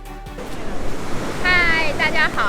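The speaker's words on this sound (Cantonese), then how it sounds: "就在我后面有一大片很漂亮的海" Sea waves wash onto the beach at Monterosso in Cinque Terre, a steady broad surf hiss, with a person talking over it in the second half.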